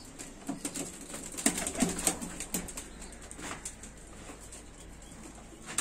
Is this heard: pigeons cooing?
yes